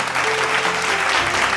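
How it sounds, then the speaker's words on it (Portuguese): A church congregation applauds in worship, a loud, dense, continuous roar of many hands clapping at once, with sustained keyboard tones underneath. "vamos aplaudir o Senhor"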